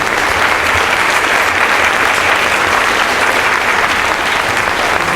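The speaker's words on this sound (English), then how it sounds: "Give them a round of applause." Sustained applause from a school concert audience for high school orchestra students at a spring concert, a full, even wash of many hands clapping that continues without pause.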